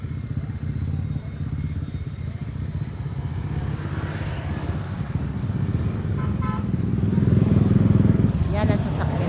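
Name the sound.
motorcycle engine running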